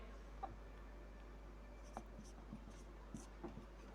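Pen or chalk writing out a math solution makes faint, sparse scratches and light taps against a low steady hum, with no talking.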